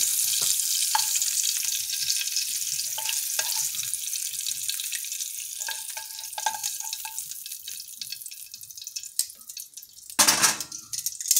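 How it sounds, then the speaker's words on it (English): Seared shrimp with five-spice seasoning sizzle and crackle in a pan, a steady bright frying hiss broken by light clinks, then a louder burst of scraping and clatter near the end as they are lifted out. "I'm going to go ahead and get those out of the pan"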